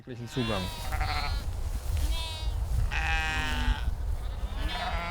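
Sheep bleat several times at the Tempelhofer Feld urban pasture in Berlin, with a steady murmur of people and outdoor background beneath the calls.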